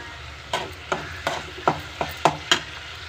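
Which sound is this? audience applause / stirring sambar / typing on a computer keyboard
stirring sambar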